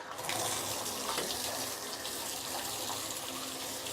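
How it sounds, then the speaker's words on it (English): Running water from a faucet pours steadily over tripod legs being rinsed, a constant close splashing hiss with slight changes as the water hits the metal. "you're just going to rinse it out underneath the faucet"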